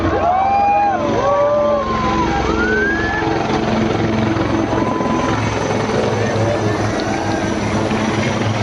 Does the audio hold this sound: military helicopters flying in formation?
yes